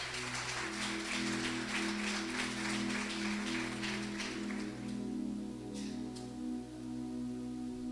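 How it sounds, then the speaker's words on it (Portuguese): A church congregation applauds steadily for several seconds, a dense wash of clapping over a sustained low musical drone, thinning toward the end. "dê um aplauso ao Senhor Jesus Cristo"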